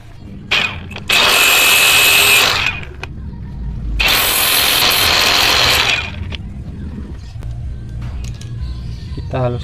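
A power tool grinds and smooths a rough, sharp-edged plastic part during repair of a faulty Kyodo jet cleaner's automatic section, in two loud sustained bursts with short quieter gaps and handling noise between.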